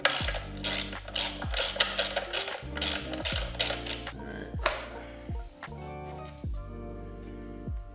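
Screws come out of a motorcycle's tech panel on an Indian Chief with a rapid run of close ratchet clicks, broken into several separate bursts with short pauses between them, and no talking.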